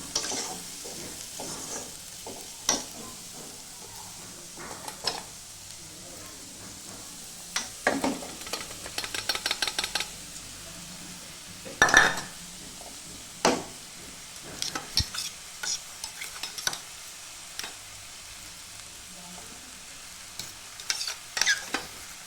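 Rice with coriander stirred and fried in a pan for phodnicha bhaat, a low sizzle broken by scattered spatula scrapes and clanks, with a brisk run of rapid stirring strokes partway through, no talking.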